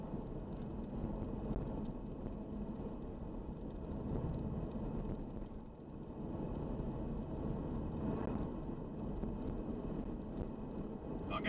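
A Nissan ZD30DI diesel engine runs steadily with the throttle trailed and feathered on a hill, giving a continuous low rumble mixed with road and wind noise. It stays moderately loud throughout, with no talking.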